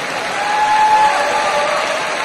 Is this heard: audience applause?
yes